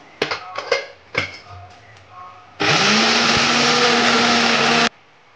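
A mixer grinder grinding sesame seeds with jaggery for laddu runs in one loud, steady whirring burst of about two seconds, preceded by clinks and knocks of handling the jar.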